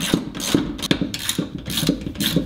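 A hand ratchet drives bolts on a Subaru STI wheel bearing and drivetrain in a garage, clicking close up in steady repeated bursts with a brief knock now and then.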